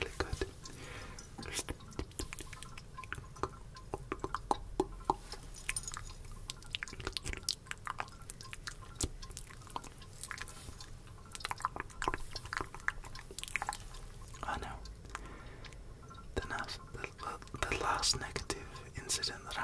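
Close, wet ASMR chewing and mouth sounds of eating bugs, with soft clicks and squishes scattered through the whole stretch under intermittent whispering.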